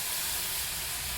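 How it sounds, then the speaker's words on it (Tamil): Half a cup of water poured into hot onion-tomato masala in a frying pan gives a loud, steady, broad hiss of steam that holds for the whole moment. "ஒரு 1/2 கப் தண்ணி சேர்த்துக்கிறோம்."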